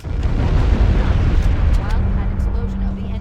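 Fusion reactor explosions in Halo CE rumble as a dense, continuous roar of deep booms and crackling blasts, loud and sustained, dying back slightly toward the end.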